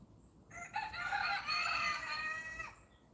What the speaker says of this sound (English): she probably will cluck for long